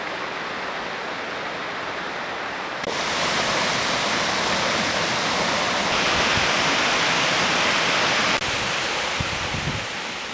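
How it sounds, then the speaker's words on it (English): Rushing waterfall in Olympic National Park, a dense, steady roar of falling water heard from nearby, rising slightly in volume after the first few seconds and continuing unbroken throughout. "I can actually already hear the waterfall"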